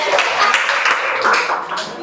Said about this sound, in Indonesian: tepuk tangan buat Raja Nicole.